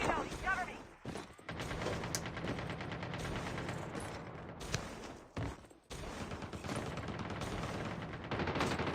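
Gunfire in a Call of Duty: Mobile battle royale match: rapid automatic bursts rattle nearly continuously, broken by short pauses, while a commentator's voice runs along underneath.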